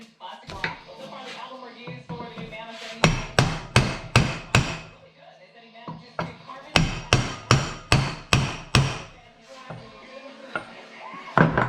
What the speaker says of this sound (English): Now we can hammer out the bearings.